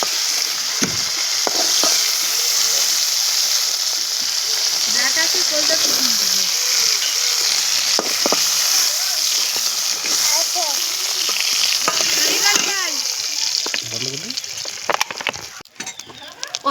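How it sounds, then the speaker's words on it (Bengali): Giant freshwater prawns fry in hot oil for a Bengali prawn curry, giving a loud, steady crackling sizzle that runs nearly the whole time with faint voice-like traces over it before it thins out near the end. "একটু লাল লাল করে ভেজে নেব। দেখুন বন্ধুরা, মাছ ভাজা কিন্তু আমার হয়ে গেছে,"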